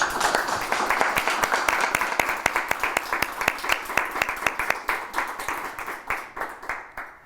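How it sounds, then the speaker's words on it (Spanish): Audience applause, a dense burst of clapping from many hands that thins gradually toward the end, no talking over it. "caluroso aplauso para nuestros invitados"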